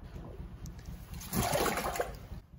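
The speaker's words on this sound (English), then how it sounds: "Dump the whole jar into the filter bag." Fermented rice wine mash is dumped from a jar into a boiled filter bag, making a short wet splashing pour that surges midway and tapers off, close and fairly loud, with no talk.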